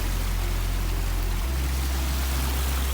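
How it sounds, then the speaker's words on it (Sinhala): Water rushes steadily along a channel near Duwili Ella waterfall in Neluwa, Sri Lanka. It makes a loud, unbroken wash of noise with a deep low rumble and no speech. "මේකේ වතුර ටික තමයි මෙහෙන් යන්නේ ගලාගෙන."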